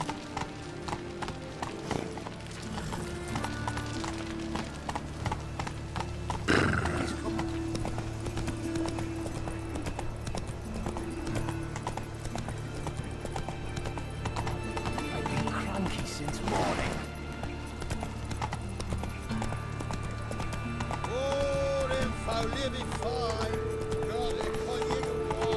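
A horse gallops with rhythmic clip-clop hoofbeats through The Witcher 3 video game, steady and continuous throughout, with a voice and other game sounds over it.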